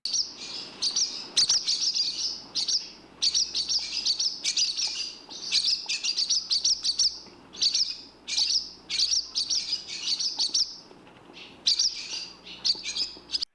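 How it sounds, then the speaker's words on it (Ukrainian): A swallow twitters in quick, high bursts, chirping phrases repeating close by with short pauses between them. "А ще ластівка дуже гарно щебече"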